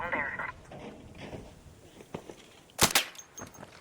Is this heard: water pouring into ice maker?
no